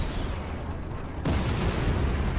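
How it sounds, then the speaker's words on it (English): A spacecraft machine gun opens up in Strike Suit Zero, first as a dense rumble, then a sudden surge into louder, rapid, sustained fire that carries to the end. "Machine gun time."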